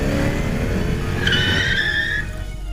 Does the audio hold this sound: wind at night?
no